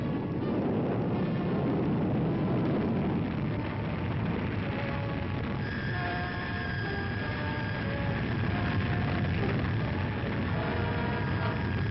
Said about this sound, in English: the firing of a Redstone rocket carrying an unmanned space capsule